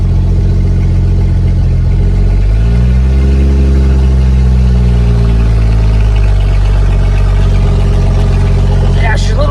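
An International Harvester L-130 truck engine, not yet fully warmed up, runs close and loud with a deep rumble that rises in a rev and settles back to a steady idle.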